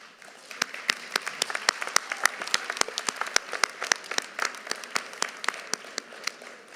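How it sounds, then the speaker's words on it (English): Graduates at a college graduation ceremony applauding their family and friends, scattered distinct claps that come fast and irregular from several people, moderately close, forming a loose ripple of hand claps with no talk. "Graduates, please turn and give your family and friends a round of applause."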